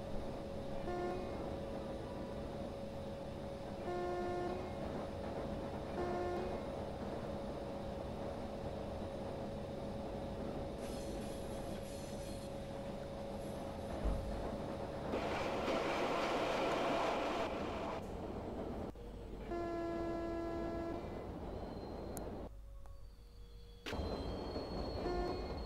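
The Karnataka Express, train 12628 from Bangalore to New Delhi, runs near Pune in a train simulator game, making a steady rumble of wheels and carriages, with brief squeals and horn-like tones over a constant hum.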